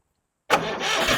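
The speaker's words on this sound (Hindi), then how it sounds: "आपको एक बार स्टार्ट करके दिखा देता हूँ" Silence, then an old tractor engine abruptly cranks and catches, settling into a loud, steady running rumble close by.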